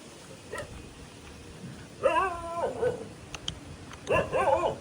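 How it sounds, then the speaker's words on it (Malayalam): A dog on a quiet night street in Jaffna, Sri Lanka, gives a brief yip, then two bursts of whining, whimpering barks, close and fairly loud against a faint background. "പട്ടിയുണ്ട്, അതൊന്നും ആക്കൂല."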